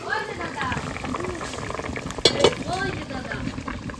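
Hilsa fish simmering in a covered pan gives a steady bubbling boil throughout, with a brief lid or utensil clink partway, while a voice talks over the cooking.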